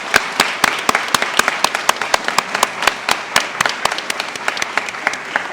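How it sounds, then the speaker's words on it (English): A small gathering at a fire department retirement ceremony for a K9 dog applauds. Distinct, fairly sparse claps ring out in a brisk, uneven rhythm, close and moderately loud, lasting the whole stretch. "I think we owe Lieutenant Zulik a round of applause also for his commitment."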